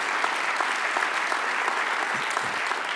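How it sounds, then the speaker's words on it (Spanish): A church congregation applauds loudly and steadily during a Spanish-language sermon, a dense wash of many hands clapping close by for the full three seconds with no voices over it. "Dale un aplauso grande al Padre."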